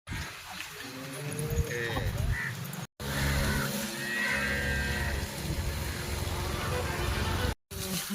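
On a village farm, a pregnant cow gives low, drawn-out moos amid rustling and busy outdoor noise, with someone talking close by throughout.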